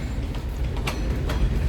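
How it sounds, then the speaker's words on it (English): Empty freight train cars roll past on rails, a loud low rumble with a couple of sharp metallic clanks from the wheels, close and continuous. "this train's all empty"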